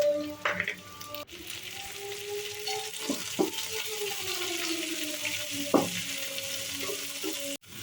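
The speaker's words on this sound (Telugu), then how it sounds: "ఇవన్నీ వేగిన తర్వాత ఇందులో పొడుగుగా కట్ చేసుకున్న క్యాప్సికమ్ ముక్కలను వేసుకొని" Long-cut capsicum pieces fry with curry leaves in a pan, giving a steady sizzle broken by several sharp stirring clacks and a faint tonal hum running through.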